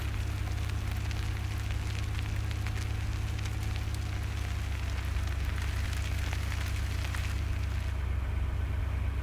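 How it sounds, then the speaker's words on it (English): A feed tractor engine runs steadily in the Farming Simulator 2017 video game, a loud continuous low rumble with a broad noisy wash on top, unbroken and with no talk. "fire up the feed tractor."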